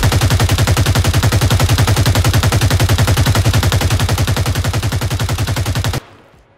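A PP19 Bison submachine gun in the game Zero Hour fires one long, steady full-auto burst for about six seconds. The shots are loud and close, then it cuts off abruptly.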